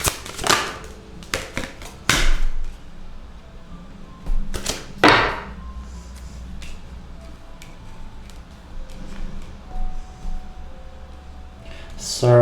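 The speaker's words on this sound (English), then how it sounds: "Last shuffle." A deck of tarot cards being shuffled during a reading, heard as a few sharp, crisp papery bursts spread across the stretch with quiet gaps between them, the loudest near the start and one more at the end.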